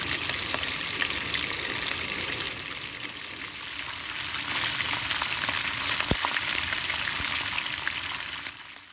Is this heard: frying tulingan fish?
yes